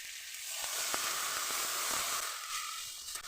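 Water hits a hot pan of frying ridge gourd, potato and shrimp for a Bengali shrimp curry, giving a steady, bright sizzle and hiss that holds evenly throughout with no talk.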